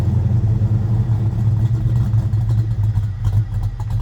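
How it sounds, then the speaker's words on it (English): A car engine with a new exhaust runs at a steady, fairly loud idle, a low rumble with some clatter close by and no talk. "we can fire it up, no problem. It's definitely quieter than it was before"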